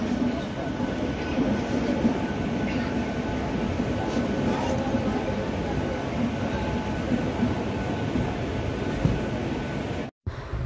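A passenger train carries riders along at a steady pace, its continuous low rumble and rattle filling the cabin throughout, with a brief break near the end.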